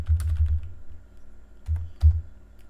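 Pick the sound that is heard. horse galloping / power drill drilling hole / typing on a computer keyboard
typing on a computer keyboard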